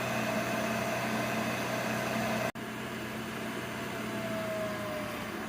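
An Eppendorf 5415D benchtop centrifuge spins at speed, a steady close whir with a high whine, broken by a brief dropout before the hum resumes.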